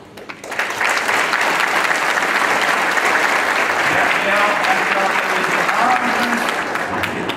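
An audience at a Progressive Party congress award in Iceland breaks into loud, sustained applause. The dense clapping fills the hall for several seconds with some cheering mixed in.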